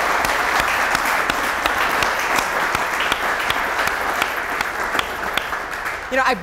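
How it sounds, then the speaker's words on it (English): A startup-event audience gives the guest speaker, a brewery founder, a round of applause: dense clapping from many hands with a few sharp individual claps standing out, lasting the whole stretch. "Everybody give a big round of applause."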